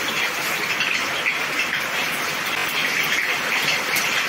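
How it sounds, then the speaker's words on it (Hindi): Steady hiss of rain falling, a dense even patter with no voices, constant in level from start to finish. "इधर हमारे यहाँ दोस्तों बारिश भी हो रही है।"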